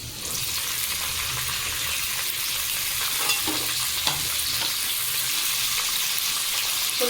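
Long beans and carrots fry and sizzle steadily in a large kadai, with occasional stirring scrapes breaking through the continuous crackle. No voices are heard.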